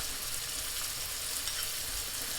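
Onions, ginger and garlic sizzle in hot oil as a steady, close hiss of frying, even and continuous, with no speech.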